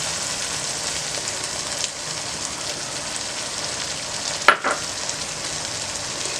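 Eggs crackle and hiss as they fry in a pan with spice masala over a full flame, for a dhaba-style egg and ridge gourd curry. The sizzle is steady and close, with a brief louder pop and clatter near the end.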